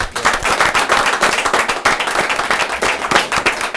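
Audience at a French-speaking community gathering breaks into dense, sustained clapping, loud and close throughout with no voices on top.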